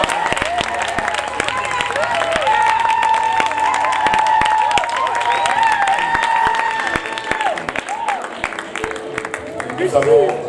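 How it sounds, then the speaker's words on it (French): Congregation applauding during a church wedding ceremony, a dense sustained clapping with cheers and crowd murmur, a sung or held voice line running over it throughout. "Nous pouvons les applaudir"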